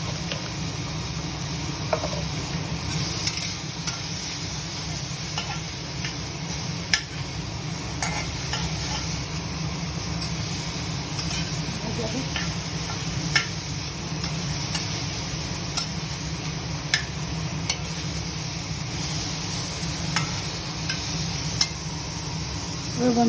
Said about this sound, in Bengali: এবার আরেকটু ভাজা হবে।